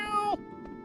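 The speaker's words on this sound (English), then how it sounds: "It's an orange cat. They will always be loud." A single short meow from an orange cat, loud and close, in a Final Fantasy IX livestream, with a faint voice beneath it.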